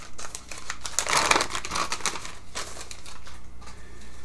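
Scissors snip through a wound bandage close up, giving a run of crisp crinkling cuts that peak in the middle and then trail into lighter rustling, with no talk.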